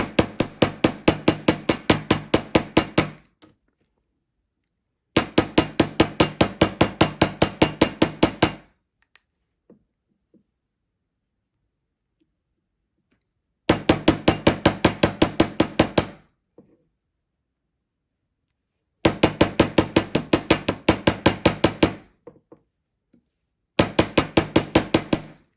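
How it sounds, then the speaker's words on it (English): Repeated hammer blows flatten and harden jewelry wire for a handmade wire-wrapped ring, coming in loud, rapid bursts of sharp metallic strikes separated by silent pauses, with no talking. "we're going to hammer the whole length. It's going to flatten the wire out a little bit"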